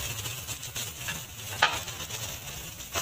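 Onions sautéing in a pan with mustard seeds and lentils for tiffin sambar, a steady close sizzle with stirring scrapes throughout and one brief sharper clatter midway.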